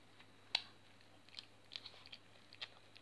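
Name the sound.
chewing edible homemade slime (icing sugar paste)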